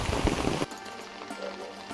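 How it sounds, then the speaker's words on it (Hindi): Heavy monsoon rain falls in the Uttarakhand mountains, a steady dense hiss. A louder, choppier burst opens the stretch and cuts off abruptly, leaving a softer continuous patter. "आज सुबह से ही लगातार बारिश चल रही है"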